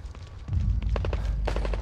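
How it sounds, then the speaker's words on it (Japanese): Gunfire in the horror video game Psycho Break 2 (The Evil Within 2): a heavy boom followed by a quick cluster of sharp, fairly loud shots over a low rumbling background, with no speech. "銃声。"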